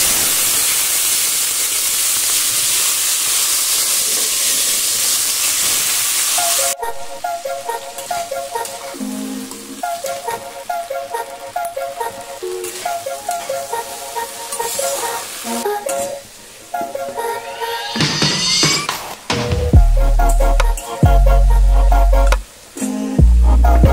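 Vegetables go into a wok of hot oil left from frying hilsa, with nigella seeds, giving a loud steady sizzle followed by repeated scraping stirs and clanks of the spatula against the pan.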